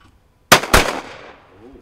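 Two loud, sharp shotgun blasts in quick succession at a clay target on a shooting range, each followed by a fading outdoor echo.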